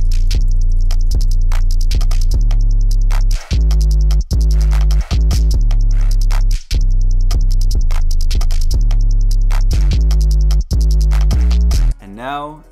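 A pluggnb beat's full drum pattern built in FL Studio plays loud and alone, with a deep booming 808 and crisp repeating hits in a steady rhythm, briefly dropping out a few times before ending in a rising swept effect.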